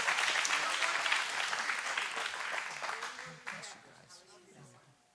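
A church congregation claps loudly and steadily at the start, and the clapping gradually thins and fades over about five seconds, with scattered voices near the end.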